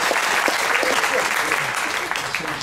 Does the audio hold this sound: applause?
yes